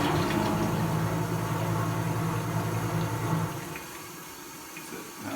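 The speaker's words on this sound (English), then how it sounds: "and then you'll hear the macerator go on." A Saniflo Compact toilet macerator in eco mode runs with a low steady motor hum and rushing water for a few seconds, then cuts out, leaving a quieter background.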